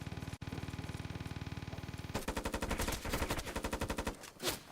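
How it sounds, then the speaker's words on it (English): Rapid automatic fire from a light machine gun in a competitive video game match, one long dense burst switching into an even faster rattling stream, loud and continuous, ending in a final blast. "Here is where all the gunfire is happening right now."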